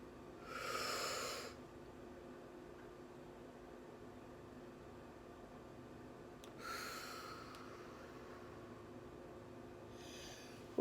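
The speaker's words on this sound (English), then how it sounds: "Breathe in, breathe out." Two slow, deep breaths, each a broad soft rush of air lasting about a second, drawn in and let out near the microphone against a quiet room hiss, with a third faint breath at the end.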